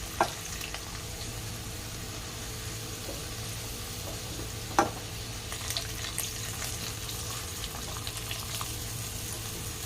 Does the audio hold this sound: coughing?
no